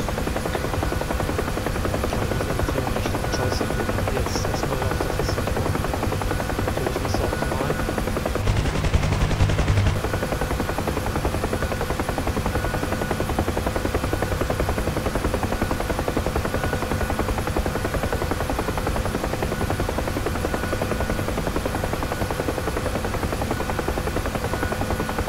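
A Huey helicopter in a flight simulator drones continuously with a steady rotor and turbine roar, loud and unbroken throughout, with a short burst of extra noise partway through.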